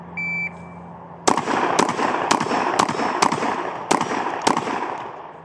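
A Beretta A300 Ultima Patrol 12 gauge semi-automatic shotgun fires seven sharp, loud shots at uneven intervals, each followed by ringing echo outdoors, after a short electronic beep.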